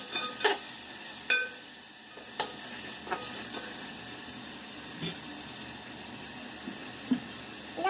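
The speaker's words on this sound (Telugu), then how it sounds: "బాగా కలిపేసుకోవాలి ఫ్రెండ్స్" Biryani masala paste of coconut, poppy seeds, sesame, cashew, mint and coriander being stirred in a pan over a soft steady sizzle, with sharp spoon scrapes and clinks against the metal every second or so.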